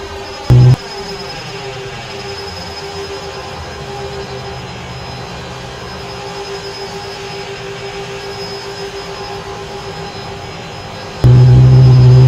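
Airliner engines idling while taxiing toward runway 28 left in Flight Simulator X, a steady loud jet drone with a constant whine, broken by brief clunks near the start and end.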